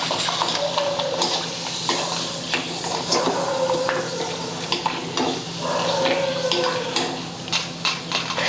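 Semolina papad (rava happala) fries in hot oil with a steady, close sizzle, broken by scraping stirs and light clinks of a utensil against the pan.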